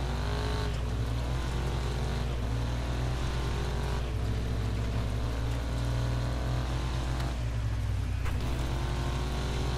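Several race car engines in DIRT 5 roar and rev at the start of a race, loud rising and falling engine tones overlapping as the cars accelerate away together.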